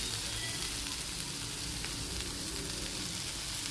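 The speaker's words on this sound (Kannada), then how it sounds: "ಅದಕ್ಕೆ ನಾನು ಎಣ್ಣೆನಾಗೆ ಚೆಂದಾಗಿ ಫ್ರೈ ಮಾಡ್ತೀನಿ" Oil frying in a pan for a Navratri home dish, a steady soft sizzle that holds evenly throughout, fairly faint with no voices over it.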